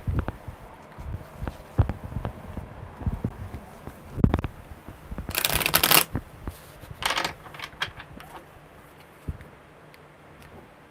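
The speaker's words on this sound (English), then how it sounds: "One more good shuffle." Tarot cards shuffled up close in a few brisk bursts, with softer handling taps and rustles in between and no talking.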